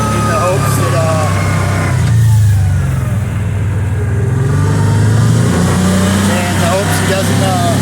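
A 2022 Kawasaki Teryx 800 side-by-side rides through a neighborhood, its mid-pitched engine droning steadily and loud, swelling with revs throughout.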